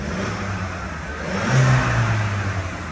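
A stock manual VW Golf TSI with a newly fitted downpipe and its diffuser shut revs briefly, a muffled engine hum rising to a short swell before settling back.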